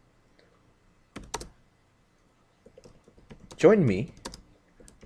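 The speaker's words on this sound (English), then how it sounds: "I'm currently typing to him on Discord." Typing on a computer keyboard while messaging on Discord, heard as a few short, close clicking bursts between stretches of quiet, with a voice speaking briefly partway through.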